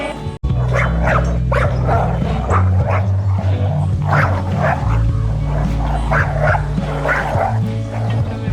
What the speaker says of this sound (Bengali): কুকুরের চিৎকারে ভয় পেয়ে